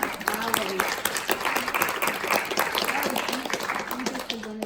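A round of applause from college students, clapping that runs under lively talking and exclamations from several voices throughout.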